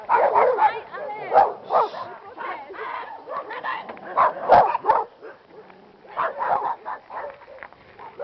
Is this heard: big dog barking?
yes